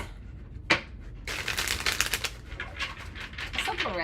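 Tarot cards are shuffled close up in a quick riffling flurry after an opening sharp tap, with a brief voice near the end.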